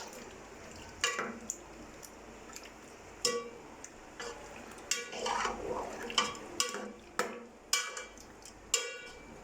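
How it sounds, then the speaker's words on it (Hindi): A spoon stirs lamb meat in a karahi pot for lamb dumba karahi, making repeated sharp metallic scrapes and clinks at a steady rhythm over a soft background sizzle, close and fairly loud. "गोश्त डालते साथ ही आपने ये जो चम्मच है ये चलाते रहना है"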